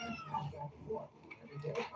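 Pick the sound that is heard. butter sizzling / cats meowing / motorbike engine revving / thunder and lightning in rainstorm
cats meowing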